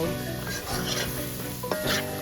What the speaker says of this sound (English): Give it a last stir.